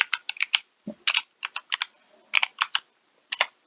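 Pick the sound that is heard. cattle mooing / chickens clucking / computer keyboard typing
computer keyboard typing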